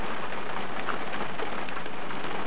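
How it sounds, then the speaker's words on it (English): Steady rain patters on a surface, a dense, even hiss of drops with no voices. "It's raining at the moment."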